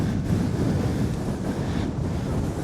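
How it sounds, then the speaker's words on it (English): Strong wind on high ground in an English national park roars and buffets the microphone in a constant low rumble, with no other sounds breaking through. "It's so windy up here"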